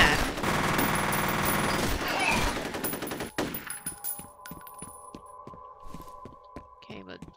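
Rapid automatic gunfire from the 2005 video game F.E.A.R., a loud, dense burst lasting about three seconds, followed by quieter, evenly spaced rhythmic thuds.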